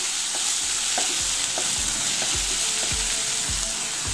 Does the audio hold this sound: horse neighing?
no